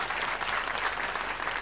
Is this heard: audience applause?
yes